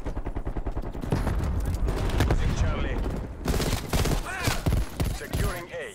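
Rapid, loud gunfire from the video game Call of Duty Cold War on the Nuketown map: dense bursts and sharp single shots crackle almost continuously across the clip, with a voice talking faintly underneath.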